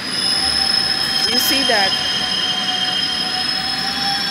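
A London Underground train running out of Finchley Central, with a steady rumble of the carriage and a brief burst of wheel squeal on the rails midway, heard from on board, with a short spoken remark over it.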